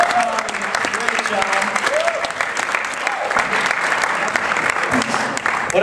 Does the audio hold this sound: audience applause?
yes